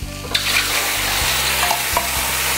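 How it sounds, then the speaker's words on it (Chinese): Rice wine and Shaoxing wine hitting a smoking-hot pan of pork, a loud dense hiss and crackle that holds steady, with a few faint utensil knocks underneath. "当我们现在冒烟了以后，我们现在下我们的酒"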